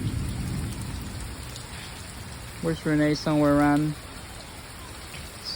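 Steady rain pours down outdoors where kids are playing, a constant close hiss of drops on surfaces, with brief voices talking over it partway through.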